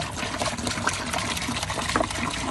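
Fish waste water being poured onto garden plants, a steady splashing trickle and gush of liquid heard up close, continuous throughout with no talk.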